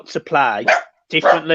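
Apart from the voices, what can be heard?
dog barking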